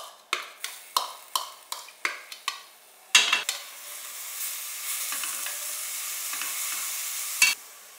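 Onions dropped into a frying pan with a little oil: a run of sharp taps and clatters, then a bright, steady sizzle that holds close and fairly loud, with one more clack near the end.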